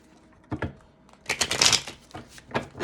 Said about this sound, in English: A couple shuffles for that.